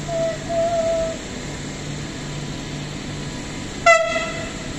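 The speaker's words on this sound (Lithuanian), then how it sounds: "Mum visi traukiniai patutuoja." An Alstom Pendolino, unit 2370, sounds a short, sharp horn blast near the end at Warsaw train station, loud and close over a low rumble of rail and platform noise after a fainter tone at the start.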